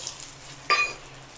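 Whole spices sizzling in hot oil: bay leaf, dry chilli, cardamom, cinnamon and cloves, for tomato katla, a Bengali recipe. A short, quiet fry with one brief sharper crackle burst midway.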